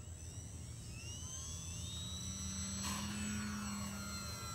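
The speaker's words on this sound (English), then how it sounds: "it's just a smooth little airplane, but this thing can go fast" An E-flite Valiant 1.3 m electric RC airplane flies overhead with half flaps in light wind, its steady high motor whine holding throughout and a tone rising slightly near the end, moderately distant.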